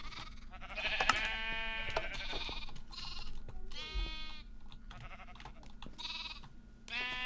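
Sheep in the Minecraft video game bleat repeatedly, several overlapping calls spaced a second or so apart, close and clear over a quiet background.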